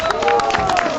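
A crowd applauds at an outdoor summer gathering of former deportees and political prisoners in Ariogala, Lithuania, a dense steady clapping with some cheering throughout, loud and continuous.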